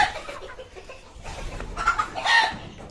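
Chickens on a small backyard mini farm cluck in short, close bursts, growing busier toward the end, with no talking.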